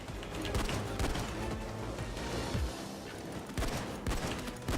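Gunfire in the video game Payday 2: rapid bursts of shots fire in quick succession, fairly close and steady, with overlapping reports throughout and no talk over them.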